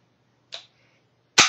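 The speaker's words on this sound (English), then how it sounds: "This is Cody's gun. Here, I'll show you how it works" Toy gun fired twice, a small sharp snap followed about a second later by a much louder, crisp cap-gun-like crack, alone with no talk.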